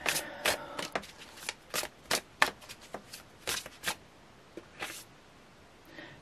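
Tarot cards are shuffled by hand in a string of crisp, irregular riffling flutters and slaps, close and fairly quiet, with no talking.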